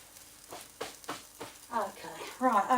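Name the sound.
flatbread frying in melted coconut oil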